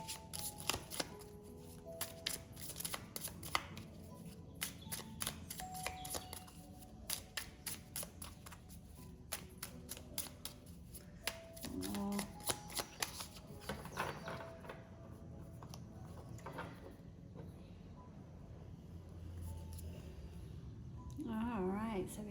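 Tarot cards shuffled and drawn during a card reading, soft repeated riffling and flicking of cards close up, with quiet talking throughout.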